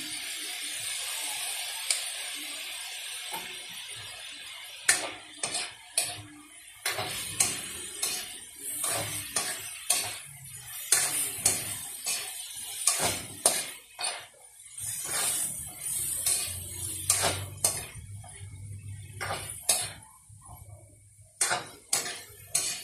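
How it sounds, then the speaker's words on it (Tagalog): A spoon repeatedly clanks and scrapes inside a pan while carrots are stirred for sweet and sour tilapia escabeche, a steady string of sharp metallic taps and clicks over a faint background sizzle. "lagi lang po nating halu-haluin mga kaguro para yung yung ating carrots ay manatili po siyang malutong"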